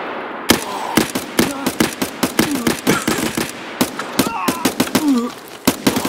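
Gunfire in Escape from Tarkov: rapid bursts and single loud shots crack in an irregular, dense rhythm close by, while players talk over the shooting.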